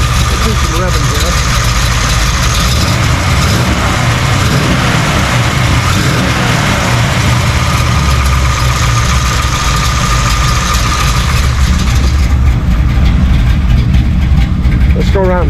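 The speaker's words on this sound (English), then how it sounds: "Let's do some revving here." A car engine fitted with a performance cam runs loud and close with a lumpy, choppy idle, surging in a few rev-ups while someone talks nearby.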